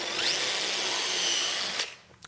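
A power drill with a 3–4 mm bit bores a pilot hole into an oak casement window frame, a steady close whine that runs for about two seconds before stopping.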